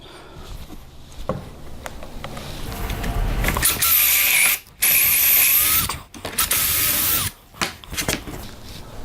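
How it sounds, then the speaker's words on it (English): A power drill whirs in long bursts with short pauses, grinding close up as it bores a one-inch hole through finished wood. "We have to drill a 1-inch hole where I've already got it marked"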